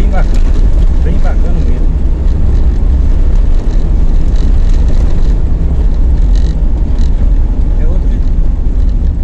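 A VW Gol CHT engine with a Weber 460 carburetor rumbling steadily and loudly, a constant low droning drive sound filling the whole stretch, with someone speaking briefly over it.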